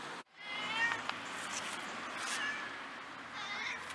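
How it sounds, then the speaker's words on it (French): Two cats trade meows outdoors, the calls drawn-out and overlapping, some rising into a caterwaul-like wail, heard fairly close against a steady background hiss. "Communication entre deux chats."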